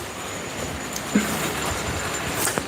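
A Graham Farish LNER black model train runs steadily on a layout, a soft continuous rolling whir with faint clicks and a thin high tone, no voices.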